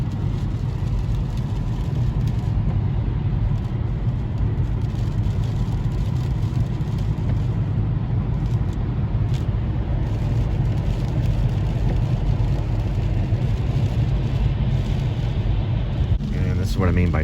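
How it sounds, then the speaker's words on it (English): Evening road traffic near Fort Worth on a cold 35-degree day before a winter storm makes a continuous low roar of engines and tires, heavy and unbroken throughout, with a brief louder passing rush near the end. "This is what I mean by traffic."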